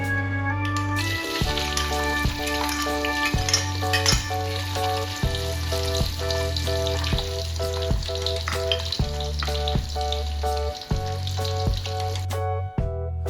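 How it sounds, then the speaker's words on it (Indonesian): Beans crackle and sizzle steadily in hot oil, with rhythmic background music playing throughout. "Kemudian siapkan minyak panas untuk menggoreng jengkolnya."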